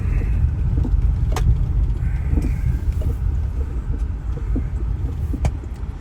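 A car idles and rolls slowly into a campground, a steady low engine rumble filling the scene with a few sharp clicks and crow caws overhead, no talking.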